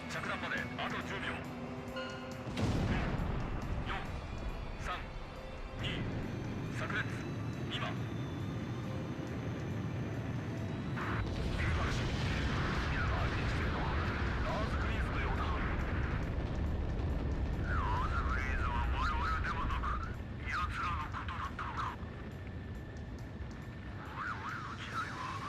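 Burst missile explosions in Ace Combat 5 come as heavy rumbling booms and roaring blasts over jet engine drone, with a person talking over the game throughout.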